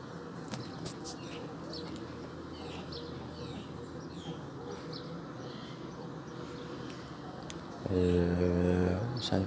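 Birds chirp and call steadily through a moderate spring thunderstorm in the Var, with a background wash of rain and storm noise; a louder low rumble swells near the end.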